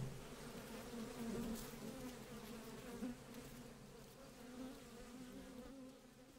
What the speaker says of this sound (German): Oh, Bienchen? Bienchen summen?